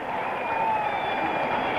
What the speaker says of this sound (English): what's all the cheering about?